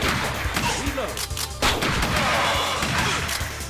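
Gunfire in the arcade shooter Virtua Cop, shots hitting computer screens, with a rapid series of sharp loud bangs and crashes over busy game noise.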